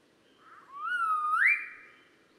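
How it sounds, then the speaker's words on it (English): Advertisement call of a male riflebird from the Queensland population: a single loud rising whistle that holds steady, then sweeps sharply upward and fades, clear and isolated against a quiet background. "So the first call shown on the top is what male rifle birds sound like in Queensland."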